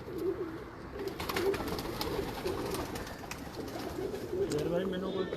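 Breeder pigeons coo repeatedly in a loft, with low, rolling calls that recur steadily beneath a constant noisy background and occasional clatter.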